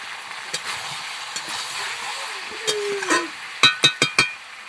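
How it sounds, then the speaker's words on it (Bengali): Chicken pieces being stirred and fried in spiced oil while the meat is browned for chicken kosha: a soft steady sizzle, a few scrapes, then several sharp clanks of a spoon against the pan near the end. "মশলা কষানোর পর এবার মাংসটা ঢেলে দিলাম। এবার মাংসটা ভালো করে কষাবো।"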